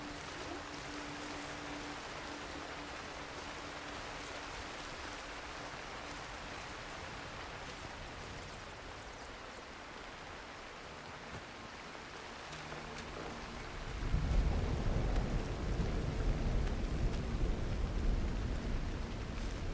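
Steady rain hisses throughout, broadening into a louder, heavier downpour with low rumbling near the end, consistent with an approaching storm; no voices are present.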